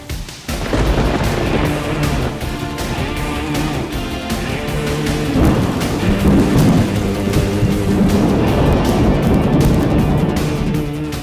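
Thunder from a lightning storm rolls in a long, loud, unbroken rumble with crackling texture, rising and swelling over several seconds, with heavy rain-like noise underneath.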